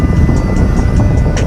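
A Tech RC Hornet 5.8G FPV quadcopter flies smoothly through wind, giving a loud, steady rushing drone with a faint pulsing buzz and no voices.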